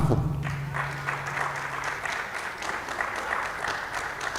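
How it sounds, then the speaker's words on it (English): An audience at a sports profiling and benchmarking talk applauds steadily, a dense, sustained clapping from a room full of people, heard up close after a short voice at the start. "Help me welcome with an applause, Owuraku Ampofo."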